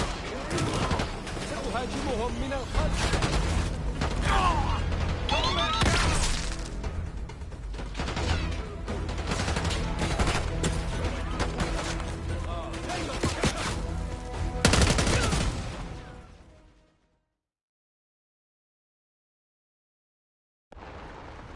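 Sustained automatic gunfire and heavy battle noise from the Call of Duty Black Ops 6 campaign on PS5, with dense bursts and blasts for about fifteen seconds under occasional voices, then cutting to near silence.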